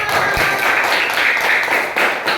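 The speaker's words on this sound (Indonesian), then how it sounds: "Tepuk tangan." A primary school class of fifth graders claps their hands together in a fast, fairly even burst of applause, close and steady, with a few small voices mixed in.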